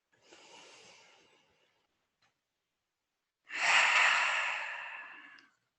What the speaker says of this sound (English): you could take one collective breath in and out with me